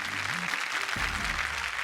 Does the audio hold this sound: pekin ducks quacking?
no